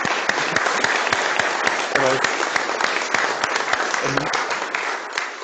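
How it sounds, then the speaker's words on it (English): Sustained audience applause closing a scientific meeting on continuum models of elastic phenomena in condensates, dense steady clapping from a full room at even loudness throughout, with a brief voice or two surfacing under it. "So let's give a big round of applause for everyone, I guess."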